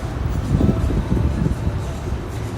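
Loud, steady low rumble and rattle from inside a moving Toronto subway train, with continuous wheel and track noise filling the cabin.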